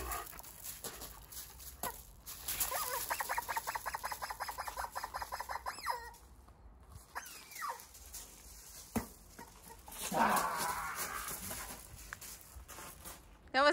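A green chicken-like dinosaur or bird toy squeaks and squawks in repeated bursts, loud and close, with brief gaps and scattered movement noises between calls.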